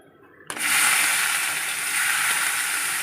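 Two big onions drop into hot oil for an egg omelette masala, bursting into a loud, hissing sizzle that stays steady and close after the sudden start.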